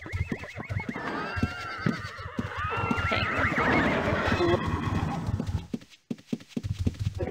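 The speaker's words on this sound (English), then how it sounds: "Why is this horse trying to kill me?" A horse in the game Ultima Online neighs loudly with shrill whinnies over clip-clopping hooves, close and agitated, then drops briefly to near silence before the hooves resume.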